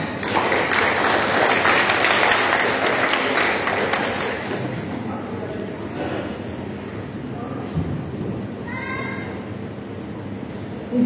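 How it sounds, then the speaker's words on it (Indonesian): Audience applause at an installation ceremony for a regional organisation board, a dense burst of clapping that swells for several seconds and then thins into scattered claps and murmuring. "Mana tepuk tangannya?"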